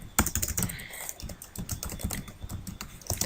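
A command is typed on a computer keyboard in a close, irregular run of crisp key clicks and taps, with no talking.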